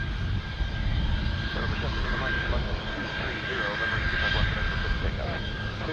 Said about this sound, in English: Here we go, Gulfstream! Powering up!